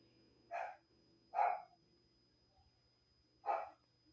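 Dogs bark three times, short separated woofs at moderate distance over a quiet background.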